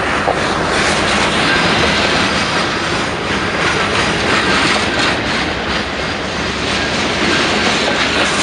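A short CN freight train with mixed cars passing in Montreal, a loud, dense, steady roar of wheels and rolling stock with clickety-clack rail joints throughout, close and continuous with no talk.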